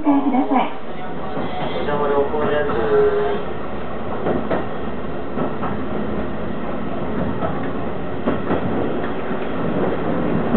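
A Seibu Railway 6000 series train runs on the Ikebukuro line between Ikebukuro and Shiinamachi, giving a steady rolling rumble with scattered wheel clacks beneath an onboard announcer's voice.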